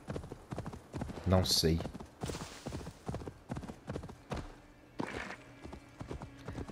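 Horse hooves clip-clop in Assassin's Creed Valhalla, a steady rhythmic trot heard fairly close beneath someone talking in Portuguese.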